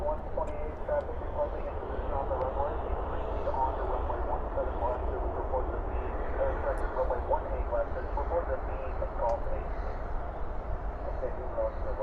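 An airliner landing at DFW airport roars steadily with broad engine and thrust reverser noise, held at a constant, moderately distant level throughout, with faint voices and radio chatter beneath.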